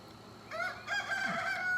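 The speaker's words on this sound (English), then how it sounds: "the rooster says hi." A rooster gives a single full cock-a-doodle-doo crow, moderately quiet and somewhat distant, over a faint outdoor background.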